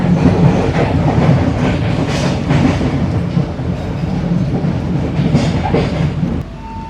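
The Kutojaya Selatan Tambahan passenger train in Indonesia runs on rails, heard from inside the carriage as a loud, steady rumble with rhythmic clickety-clack of the wheels.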